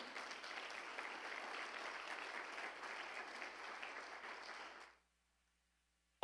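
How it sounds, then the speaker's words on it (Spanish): Church congregation applauding during a Spanish-language sermon, a soft, fairly distant patter of clapping that fades out after about five seconds into silence before a sharp sound at the very end. "¿Le puedes dar un fuerte aplauso al Señor Jesús?"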